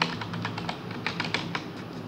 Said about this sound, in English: type in your password, and retype it just to make sure